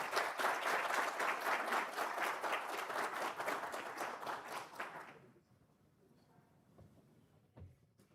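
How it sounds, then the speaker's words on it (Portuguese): Audience applause for the incoming president at an installation ceremony of the Brazilian antique vehicle federation, a full, steady round of clapping that fades out after about five seconds into quiet room tone. "Uma salva de palmas, por gentileza."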